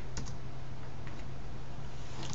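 Typing on a computer keyboard while writing plugin code, a few soft, scattered clicks over a steady low hum, quiet and close.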